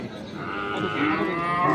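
A cow, a local-breed bull at a cattle market, moos in one long, low, drawn-out call over steady outdoor background noise.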